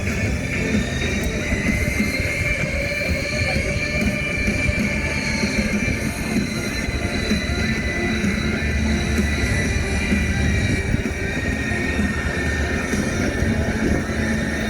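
Three Sky Aces aircraft take off at an air show in Illawarra, a loud continuous engine roar that stays steady and dense throughout with no speech over it.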